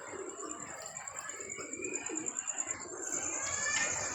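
Pigeons coo nearby in a soft, rolling rhythm, a steady run of low throaty calls with a faint high tone in the background.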